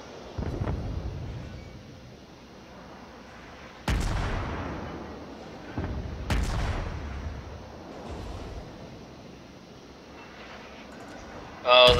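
Battleship main guns firing in a naval video game, a few heavy booming salvos spaced several seconds apart, each followed by a long rumbling decay over low engine and water ambience.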